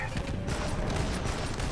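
Rocket fire crackles in a dense, continuous barrage of explosive bursts during a boss fight in the mech video game Front Mission Evolved, loud and busy with a voice faintly underneath.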